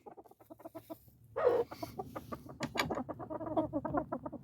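Several chickens and roosters cluck and murmur close by in a busy, overlapping chorus, with one louder squawk breaking out partway through.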